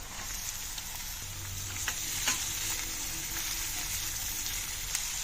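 Chopped onion pieces sizzle steadily in a hot pan of oil with green chillies, a continuous frying hiss with occasional light pops and stirring clicks, close and even throughout, no voices.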